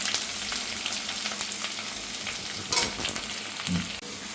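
Curry leaves fry in hot oil for lime pickle, giving a continuous close sizzle and crackle, with a sharper burst of spattering midway and a soft clink near the end.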